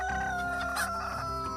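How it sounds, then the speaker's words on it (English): A rooster crows once, loud and close, its drawn-out call with bright harmonics filling the short moment over faint background. "that's a rooster over there, and he's kind of a jerk"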